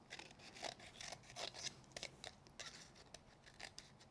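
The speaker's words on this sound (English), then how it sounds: "now we're going to trim away the excess from underneath" Scissors trimming excess cardstock from under a square card frame, a series of close, crisp snips and slides in a quiet room.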